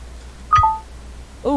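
Phone dialing tones from a call placed in the video game Simulacra 2, a short pair of electronic beeps followed by another brief tone near the end, heard alone over a quiet background hum.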